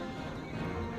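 Horse hooves clip-clop in a quick, steady rhythm over a dense game soundscape in Empire: Total War, fairly loud and continuous through the brief moment.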